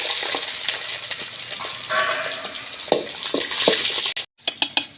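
Onion and garlic frying in a pan for a village-style fish curry, with a steady close sizzle and crackle, a few stirring clatters, and a brief break near the end.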